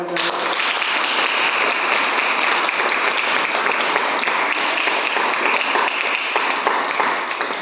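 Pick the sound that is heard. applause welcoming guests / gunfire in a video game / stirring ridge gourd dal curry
applause welcoming guests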